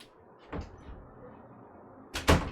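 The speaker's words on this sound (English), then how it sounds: "I'm just gonna open the window because it's cold." A window is opened indoors, giving two sharp knocks and slides about two seconds apart: a softer one first and a louder, nearer one at the end, with quiet room noise between.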